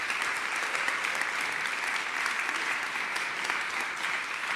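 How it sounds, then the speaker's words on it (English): An audience at a live concert hall event applauds steadily, a dense, even wash of clapping from many hands that holds at a constant level from start to finish. "So please give yourselves a round of applause for being here."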